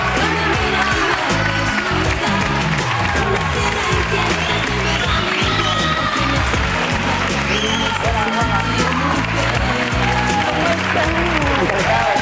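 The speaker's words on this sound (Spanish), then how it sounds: "Pues un aplauso para ella." A studio audience on a television talk show breaks into steady, dense applause and cheering that holds loud and unbroken for about twelve seconds.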